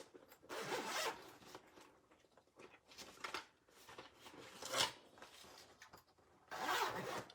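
A pencil case zipper is pulled open in several short rasping bursts separated by brief pauses, close and fairly quiet, with no voices.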